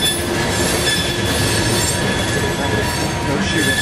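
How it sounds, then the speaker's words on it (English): A passing coal train at the Port of Tampa rumbles close by, its wheels squealing in sustained high-pitched tones over a continuous loud grinding roll. "Coal train,"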